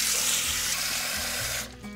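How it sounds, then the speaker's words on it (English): Hot tap water runs steadily into a bowl of toasted dried chilies for mole manchamanteles, a loud broadband rush that cuts off near the end, leaving a quieter trickle. "you cover them with hot tap water"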